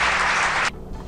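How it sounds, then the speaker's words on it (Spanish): A stock applause sound effect: a dense, loud burst of many hands clapping that cuts off sharply partway through, leaving a quiet tail. "Aplausos, gracias."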